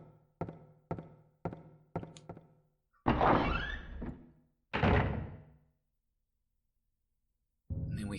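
Doors tried one after another inside Midwich Elementary School in the game Silent Hill: five sharp rattling thunks in quick succession, then two louder drawn-out scraping, clanking bursts, a pause of silence, and another burst starting at the end.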